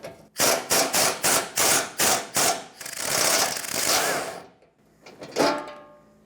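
A hand ratchet with a 13mm socket loosens a rear bumper bolt under the corner of a 1996-2002 Toyota 4Runner: a quick run of sharp, close clicking strokes, then a longer rough grinding spin and a few last clicks.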